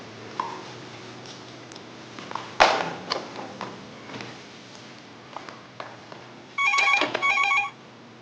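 A telephone rings twice in quick electronic bursts near the end, after a stretch of soft room noise with scattered knocks and clicks.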